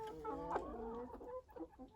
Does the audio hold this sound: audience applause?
no